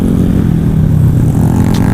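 Motorcycle fitted with a Nobi aftermarket exhaust, idling and revving in traffic with a steady, rounded low engine drone that swells slightly near the end, loud and close throughout.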